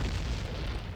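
A bomb explodes in The Legend of Zelda, a brief, muffled low boom that rumbles for about a second.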